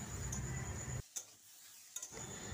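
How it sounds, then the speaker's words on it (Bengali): Vegetables being stirred in a pan with salt and turmeric, a soft scraping and faint sizzle with a couple of sharp utensil taps against the pan, quiet and close. "সামান্য পরিমাণ লবণ আর সামান্য হলুদ দিয়ে আবারও ভালোভাবে নেড়ে নিচ্ছি"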